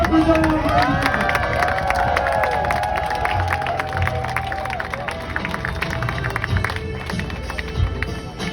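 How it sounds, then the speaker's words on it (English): A political event audience applauds and cheers for Representative Randy Fine, with a dense, continuous roar of clapping and crowd noise, loud and sustained throughout, mixed with a faint tonal whine early on. "give him a big hand of applause, Representative Randy Fine"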